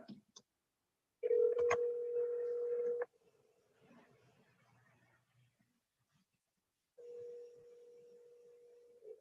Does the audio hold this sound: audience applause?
no